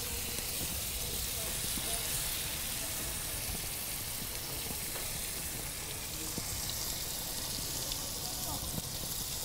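Waffle batter sizzles in a hot buttered waffle iron, a steady dense hiss with faint crackles that holds at an even level throughout, close by.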